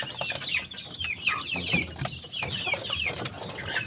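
Several free-range village chickens in a backyard coop cluck and chatter continuously nearby, with overlapping calls and rustling, no talking.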